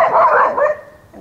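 One close, loud dog bark rings out briefly outdoors in a yard near a blue spruce tree, followed by a fading tail.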